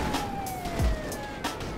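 An ambulance siren in the video game GTA 5 wails in a steady, gently falling tone throughout, set against game engine and background noise, with a brief thump in the middle.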